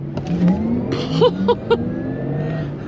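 A Porsche Taycan 4S electric car accelerates hard, with a rising whine and a few sharp surges of acceleration close by.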